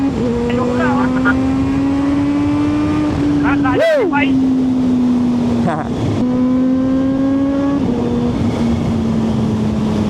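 A Kawasaki ZH2 motorcycle accelerates hard on an open road in Batangas, its engine droning loud and close with a steady pitch and a sharp rev spike, wind rushing and a rider talking over it.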